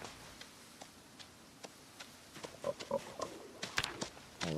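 Pigs in a messy farm pen in the Project Zomboid survival game, grunting and oinking in short, scattered bursts that grow busier partway through, fairly faint, with soft ticking clicks in the background.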